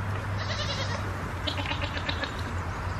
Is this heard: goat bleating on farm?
yes